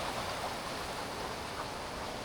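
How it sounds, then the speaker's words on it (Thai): Steady broadband rush of water pouring over a stone weir at a natural waterfall with stone slides, continuous and fairly close, no voices. "แล้วก็น้ำก็จะไหลลงไปนู่นนะ"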